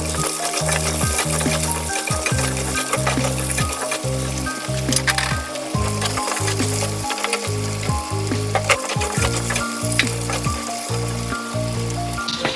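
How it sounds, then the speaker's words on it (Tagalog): Carrots fry in hot oil in a pan for chicken pininyahang manok, giving a loud, continuous sizzle with crackles and stirring scrapes, close up and without talk. "Sama na rin natin ito guys sa pagprito."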